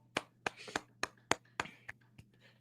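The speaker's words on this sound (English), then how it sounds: "Round of applause" A lone pair of hands claps slowly and unevenly, about nine sharp claps over a steady low hum, during talk about the Rams versus Panthers wild card game.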